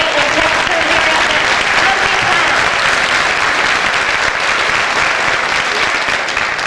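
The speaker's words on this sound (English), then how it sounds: "a big round of applause for the wonderful theater manager" Audience applause at a live Broadway-tenor pops concert, honoring the theater manager: dense, steady clapping from a large crowd, loud and continuous throughout without a break.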